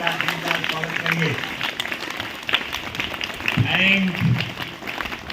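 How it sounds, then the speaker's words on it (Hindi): An audience at a talk on poverty claps in a dense patter that runs through the clip, with someone speaking loudly over the applause. "सचमुच में सभी लोग जोरदार ताली के साथ आज का दिन का स्वागत करिए।"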